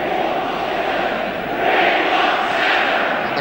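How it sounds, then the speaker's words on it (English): A large football stadium crowd roars at the 1973 England v Austria friendly international, a dense, loud, continuous wall of cheering that swells noticeably midway and stays high, with no clear voice standing out. "And the crowd really picking it up."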